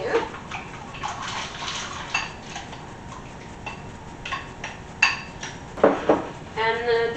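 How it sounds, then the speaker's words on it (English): Chopped carrots tumble into a cooking pot for homemade turkey stock and soup, giving a few close clattering, splashy bursts amid kitchen noise, with faint talk in the background. "I'm gonna pour all of these carrots in here."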